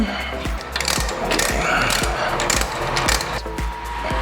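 Hand ratchet loosening the upper brake caliper bolt on a Nissan Titan, a steady run of rapid clicking pawl strokes, close and fairly loud, with no talking.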